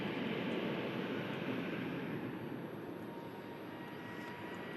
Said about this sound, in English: you get the aircraft touching down right in front of us as well